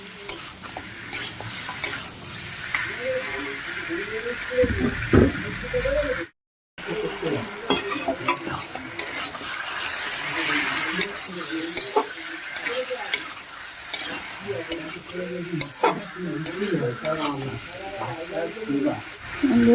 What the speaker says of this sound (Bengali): ভালো করে কষে নেব মাছটাকে আমরা